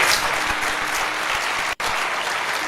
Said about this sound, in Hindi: ताली बजाओ इस बात पे